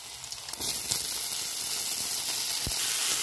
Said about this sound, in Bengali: এবার আমি এর মধ্যে দিয়ে দেবো বাঁধাকপি কাটাটা